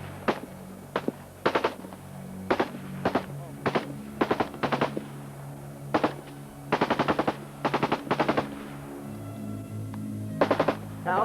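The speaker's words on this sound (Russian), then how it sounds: "тоже гремят выстрелы, тоже раздаются взрывы" Gunfire in a conflict zone: sharp rifle shots and short automatic bursts crack out irregularly at close to middle distance, with a steady rumble underneath.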